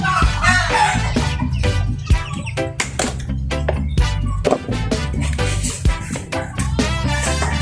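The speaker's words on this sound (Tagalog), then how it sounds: "Samahan niyo ako magpatuwa ng manok." Pet chickens about 45 days old are fed, filling the air with loud, close, continuous clucks, chirps and squawks from several birds at once.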